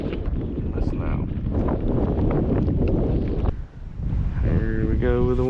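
Strong wind buffets the microphone along a protected shoreline during kayak fishing, a loud, continuous roar with one brief lull and a voice rising near the end.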